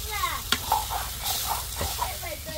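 Leafy greens sizzling in a hot pan with turmeric as they are stirred, a soft frying hiss broken by a few sharp clatters, with a quiet voice talking over it.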